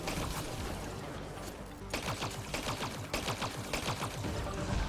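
Turrets in Mass Effect firing rapid, rattling bursts of gunfire in a dense, busy mix, with short pauses between volleys at a moderate level.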